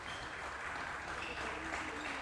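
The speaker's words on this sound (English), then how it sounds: "the crowd gives the home team a round of applause as they take a seat" Crowd applause for the home team at a high school boys basketball game in a gym, a steady, moderately distant wash of clapping filling the whole stretch with faint murmuring underneath.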